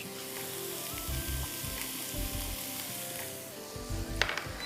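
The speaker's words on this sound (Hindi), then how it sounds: "अब इसमें हम गोभी डालेंगे, थोड़ी सी आप उसमें शिमला मिर्च अंदर भी डालेंगे" Cabbage and capsicum stir-fried in a hot pan for Thai prawn soup, with a steady close sizzle and scattered low thumps and scrapes from stirring, no voices.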